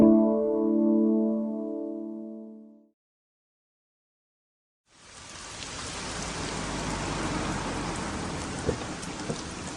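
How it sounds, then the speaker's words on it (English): Steady heavy rain pours down for several seconds, a dense continuous hiss, following a brief stretch of a low tonal hum and a moment of silence. "It's been raining for hours."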